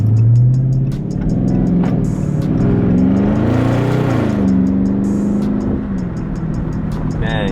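A Dodge Charger Scat Pack with its 6.4-liter engine revs loudly and close by, the exhaust rising and falling through several throttle blips with a deep, rumbling tone.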